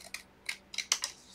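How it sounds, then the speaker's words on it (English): Scissors trimming excess paper from a junk journal fold-out, a quick series of short sharp snips at uneven intervals, close and crisp with no talk. "So you're trimming off the excess, if you have any that's hanging over."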